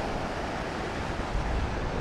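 Strong wind buffets the microphone on Swanage beach by the sea, a dense, loud roar mixed with surf that gusts slightly but never lets up, with no one speaking.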